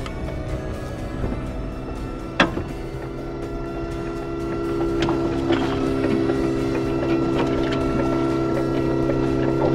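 A remote-controlled Presto dinghy lift runs on a boat, giving a steady mechanical whir that grows louder partway through, with a sharp clunk early on and light knocks over the drone.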